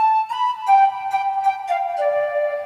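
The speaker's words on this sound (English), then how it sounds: "I put a pan flute for a little extra breath." A synthesizer pan flute patch plays a soft, breathy melody of several sustained notes, clear and alone.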